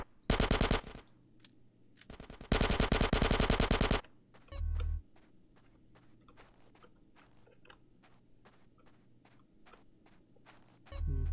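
Gunfire in GTA San Andreas: two loud, rapid automatic bursts at the start, then a long run of quieter, evenly spaced single shots and thuds, with one more loud burst at the end.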